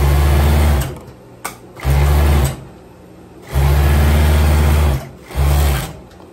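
A sewing machine stitches closed a viscose waistband for a long dress, running in four loud bursts of steady motor hum, each with a brief pause between, no talking.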